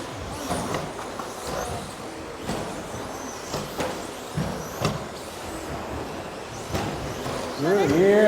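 Modified race trucks run on a circuit at Daun, Germany, engines passing in repeated rumbling surges with brief louder sweeps, an announcer talking over the racing throughout.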